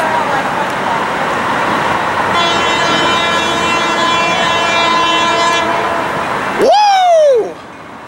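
A train passes close by with a sustained rumble and clatter, then sounds a single loud, sharp horn blast near the end before the noise cuts away.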